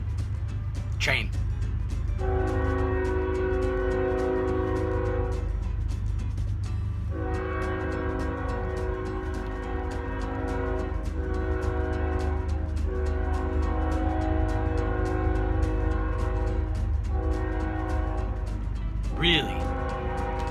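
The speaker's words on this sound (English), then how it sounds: "That train goes by like 15 times a night." A passing train sounds its horn in long, loud, sustained harmonic blasts over a continuous heavy rail rumble, with brief voices near the start and end.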